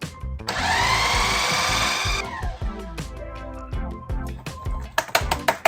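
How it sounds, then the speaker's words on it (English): A Bosch food processor whizzing biscuit dough ingredients, a steady loud motor whir lasting a couple of seconds, then stopping into a series of short bursts and clattering knocks as the bowl and blade settle. "whiz in my food processor. I have a Bosch"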